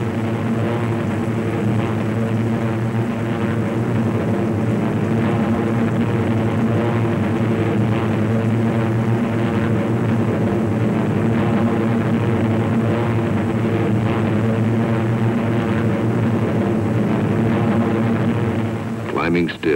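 WWII fighter plane, an Airacobra or Thunderbolt, climbing toward 10,000 feet through clouds, its propeller engine a loud, steady, throbbing drone that holds unbroken for many seconds before cutting off at the end.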